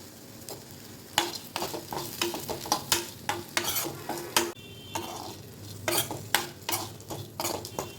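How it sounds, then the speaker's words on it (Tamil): Onions sautéing in a pan with tamarind and curry leaves for onion chutney: steady sizzling under repeated close, sharp scrapes and clanks of a spoon stirring against the pan, with no talking. "நம்மளோட வெங்காயம் இந்த அளவுக்கு வதங்கணும்."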